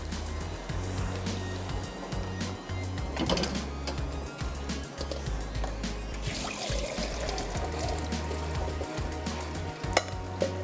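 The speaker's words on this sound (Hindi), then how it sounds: "चावल भी डाल देते हैं।" Rice is tipped into a pot of boiling water flavoured with kewra, cinnamon, black cardamom and bay leaf for a rabri mewa sheer dessert. Steady bubbling and sizzling runs throughout over a constant low stove hum, with no voices.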